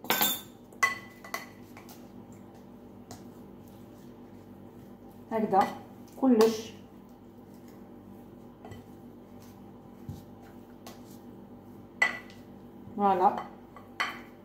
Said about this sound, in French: une bonne cuillère de vinaigre, on va mélanger.